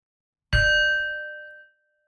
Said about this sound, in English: Let's begin with a bell.